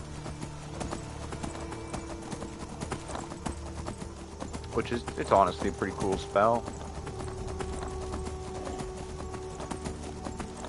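Hooves of a summoned Daedric horse in a video game clop in a short burst of rapid steps, over a constant low game hum with someone talking throughout.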